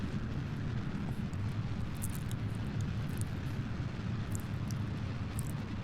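Steady low roaring rumble of a solid rocket booster engine in Kerbal Space Program, a continuous, even thrust noise with no voices, holding at a constant moderate level throughout.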